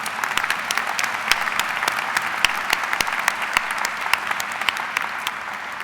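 An audience at a 2007 high school graduation ceremony applauds, a dense, steady patter of many hands clapping at close range with no break, loud and sustained throughout.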